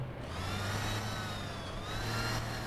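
A tractor engine in the Farming Simulator 15 video game drones at a steady mid pitch, loud and constant, with a slight rise in revs. It is heard alone, with no talking over it.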